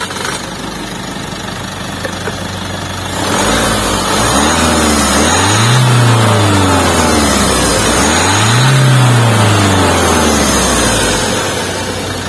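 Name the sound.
turbo diesel SUV engine starting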